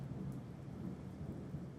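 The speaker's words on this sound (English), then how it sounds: "A huge thunderstorm continues throughout the whole night." A heavy nighttime thunderstorm in the wild sends dense, steady rain hissing down, with low thunder rumbling beneath it at moderate distance and no voices.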